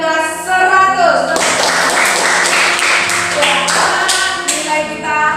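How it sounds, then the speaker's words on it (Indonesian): Students in a classroom during a Christian religious education lesson break into clapping, a fast run of sharp hand claps starting after a moment, close and loud, over a sustained tonal voice-like sound. "Tepuk tangan"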